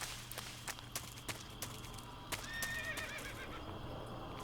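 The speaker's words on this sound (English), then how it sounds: "A horse." In Metal Gear Solid 3, a horse gives a faint neigh amid soft clip-clopping hooves and sharp game effects, over a low steady hum.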